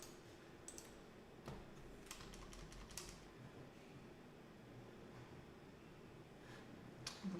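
Computer keyboard keys pressed in scattered clicks while the Shift key is stuck, set against steady background hum, with a few sharper taps near the start and end and no speech.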